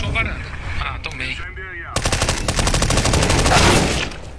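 Automatic rifle fire in a CS:GO match: a rapid, loud burst of evenly spaced shots takes over halfway through, after a quieter stretch of game sounds and brief chirps.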